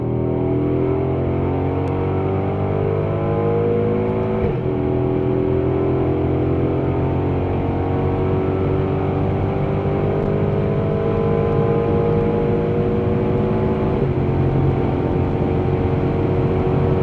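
A Mercedes AMG GLE 63S V8 SUV pulls hard on a night drive, its engine droning loud and close, rising in pitch through the gears, with paddle-shifted upshifts breaking the climb twice.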